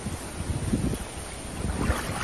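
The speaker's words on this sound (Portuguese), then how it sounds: "Muita chuva, muito vento." Heavy rain and strong wind lash a flooded area as a hurricane arrives, making a loud, steady roaring wash of noise that keeps going without a break and is buffeted by gusts.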